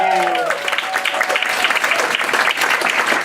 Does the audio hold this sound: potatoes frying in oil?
no